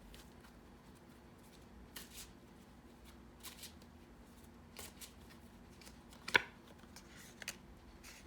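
Tarot cards being shuffled by hand, soft papery riffles and flicks recurring every second or so, quiet and close, with one sharper snap partway through.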